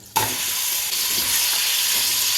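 Marinated beef hits hot oil with cumin and cloves on a stove for a Mughlai green beef gravy, giving a sudden loud sizzle that settles into a steady, close frying hiss with faint stirring.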